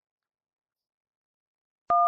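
A telephone number being dialed, heard as a single short, clean dual-tone keypad beep at the very end after near silence.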